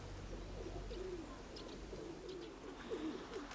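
Pigeons cooing softly in repeated low phrases over a steady background hum, fairly close and without talk.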